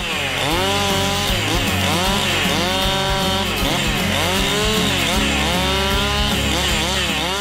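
A chainsaw delimbing a felled tree trunk runs loud and continuous, its engine pitch rising and falling in repeated revving sweeps as branches are cut.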